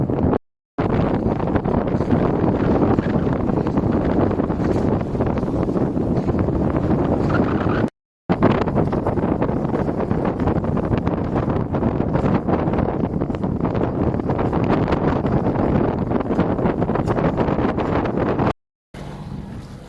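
Wind buffets and roars across the microphone aboard a sailboat sailing close-hauled off Corsica, a steady loud rush broken by a few brief dropouts, with no voices.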